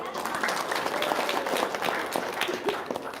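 Audience applause at a motivational talk event, steady dense clapping throughout that holds a lively, even level, with a faint voice occasionally audible beneath it.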